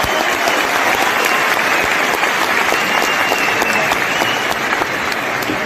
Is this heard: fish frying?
no